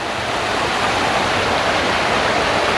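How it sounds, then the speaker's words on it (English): The Little Pigeon River in the Smoky Mountains near Gatlinburg, a loud continuous broadband rush of fast-flowing water heard close and alone, with no voices. "is this the Little Pigeon River?"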